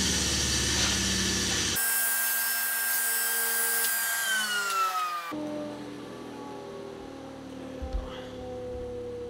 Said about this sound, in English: And now I'm just gonna cut this piece in half and join these miters together.